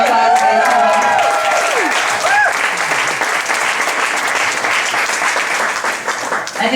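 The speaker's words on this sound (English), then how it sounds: "You can actually make a round of applause for these people." Loud, steady crowd applause fills a street march rally, dense clapping with a few whistles and cheers near the start, sustained throughout without speech.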